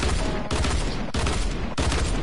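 Three heavy gunshots in a video game, evenly spaced about half a second apart, loud and close over a constant bed of game noise.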